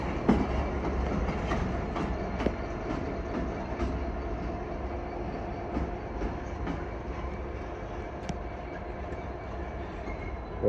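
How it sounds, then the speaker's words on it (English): A locomotive running light engine through Crewe station on the West Coast Main Line makes a distant, steady rail rumble with intermittent wheel clicks and faint metallic ticks, heard alone with no talking. "But it's obviously doing a light loco run to somewhere though."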